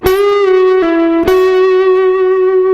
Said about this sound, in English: a bend, a return, a pull off, and then a hammer